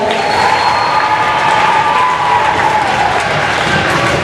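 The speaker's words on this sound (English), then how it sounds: "Let's give him a nice round of applause." A crowd applauds a 2015 spelling bee contestant, loud sustained clapping mixed with a few cheers and children's shouts, filling the hall without a break.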